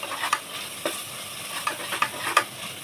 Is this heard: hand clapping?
no